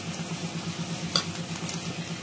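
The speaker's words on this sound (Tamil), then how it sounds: "இப்ப பாருங்க, நம்ம கட் பண்ணி வச்சிருக்கிற குடமிளகாய சேர்த்துடலாங்க" Long strips of capsicum go into a pan of frying tomatoes, giving a soft, steady sizzle with one brief clink partway through, quiet and without speech.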